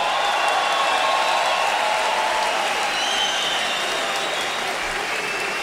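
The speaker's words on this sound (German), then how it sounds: "Applaus" Arena crowd applauding as boxer Dariusz Michalczewski is introduced before a professional bout, steady dense clapping with a crowd roar underneath, sustained and loud with faint voices mixed in.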